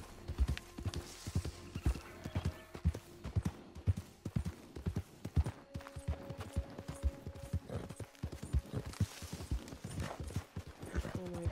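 Horse hooves clip-clop in a steady galloping rhythm in Red Dead Redemption 2, with an occasional whinny and faint tonal game music underneath.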